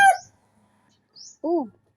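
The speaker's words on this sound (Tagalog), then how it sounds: "Sumagot yung aking mga manok." A few short chicken calls break the quiet: a sharp squawk at the start, a faint high chirp, then a brief throaty cluck.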